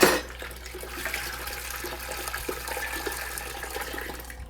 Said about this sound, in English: To this, yep, to this, you're gonna add your hot water.